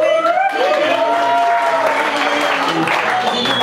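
An open mic audience breaks into loud, sustained clapping and a little cheering at a Hindi shayari and song performance, with a voice speaking over the applause.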